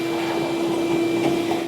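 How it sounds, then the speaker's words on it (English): Vacuum cleaner sucking up little metal shavings and filings inside the housing of a Cub Cadet 3X snowblower, a steady close whine with a strong tonal hum and faint rattling of debris. "I'm just gonna quickly vacuum around the inside"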